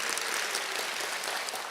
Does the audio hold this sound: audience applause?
yes